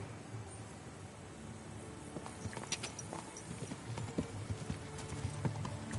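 Horse hooves clip-clop at a steady walking pace in Kingdom Come: Deliverance 2, moderately close over a dull outdoor ambience, the hoofbeats growing a little more distinct toward the end.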